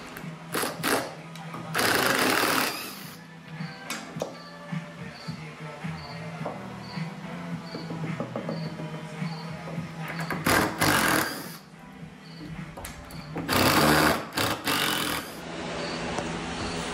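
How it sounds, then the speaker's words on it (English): Power driver backing Phillips screws out of old furniture in a castle in England, with bursts of loud whirring separated by quieter handling clatter. "get all these Phillips screws out of here"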